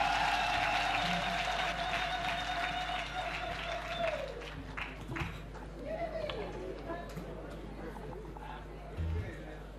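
An audience applauds to welcome a singer, a fairly faint, distant round of clapping mixed with crowd voices and some background tones.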